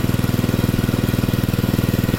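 5.5 hp 2-inch petrol engine pump draining an earthen pond, running at a steady fast chugging idle with an even pulsing rhythm, loud and close.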